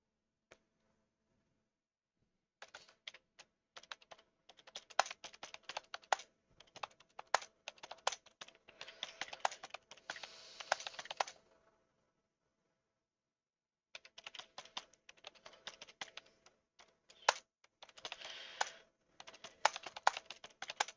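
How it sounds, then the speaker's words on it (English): Rapid typing on a computer keyboard, close and fairly quiet, in dense bursts of clicking with a pause in the middle and no talk. "it's not typing half of what I type."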